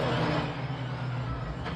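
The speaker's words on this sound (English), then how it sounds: "So into the pit lane they come" Porsche Sprint Challenge race cars roll into the pit lane at the Valencia circuit, producing a steady low engine drone throughout the short stretch with no talk.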